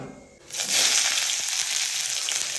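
Onions hitting hot oil in a village kitchen, a sudden burst of bright, hissing sizzle that swells after a quiet start and then holds steady, close and loud, with no talk.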